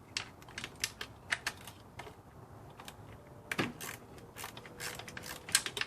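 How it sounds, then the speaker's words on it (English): A ratchet works a bolt loose on a BMW E90 valve cover, giving a quick series of sharp close clicks and a few metallic creaks, fairly faint against low background noise. "now we have room to take this bolt off"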